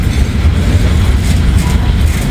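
A long gondola freight train rolls past at a crossing, a loud continuous rumble of wheels and cars with faint rhythmic clatter and no voices.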